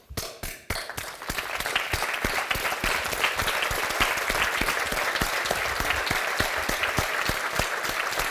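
Audience applause at a December business breakfast event, a dense, steady wash of many hands clapping in a room, swelling quickly after a brief start and holding loud and even throughout.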